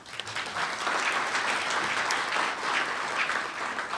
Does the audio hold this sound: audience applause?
yes